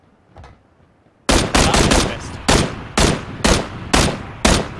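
Gunfire from the video game PUBG Battlegrounds: after a quiet second, a rapid burst of loud, close shots starts, then settles into evenly spaced single heavy reports, about seven in all.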